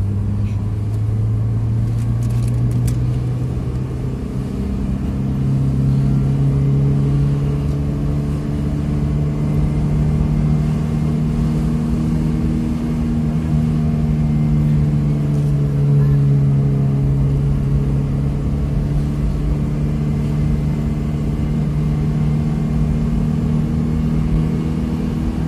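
A Suzuki Baleno running on LPG idles, then revs up and down in long, smooth swells, a close, continuous mid-pitched engine drone with no talk.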